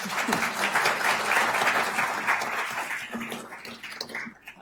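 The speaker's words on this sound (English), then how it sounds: "Can we give the mayors and Al a round of applause one time?" Town hall audience applauding steadily for the mayors and moderator, a dense wash of clapping that holds for several seconds and slowly thins out near the end.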